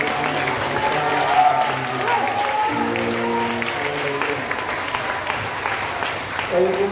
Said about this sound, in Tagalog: Ibigay po muna natin ang ating mga palakpak sa Diyos